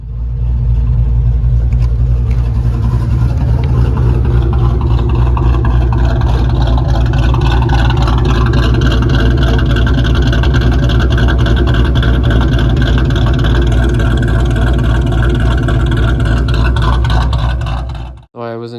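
A 2001 Ford Mustang Bullitt's engine drones steadily and loudly throughout while driving, with a constant low rumble and faint wind noise, cutting off abruptly at the end.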